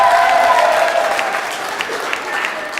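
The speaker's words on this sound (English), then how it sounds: "Give him a round of applause for being brave enough to do it twice." A talent show audience applauds a returning contestant with dense, steady clapping that holds at a fairly loud, even level for a few seconds.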